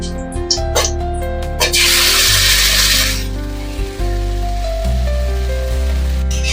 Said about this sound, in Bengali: এবারে আমরা পেস্ট করা যেটা পেলাম সেই বাটাটা আমরা দিয়ে দেবো তেলে।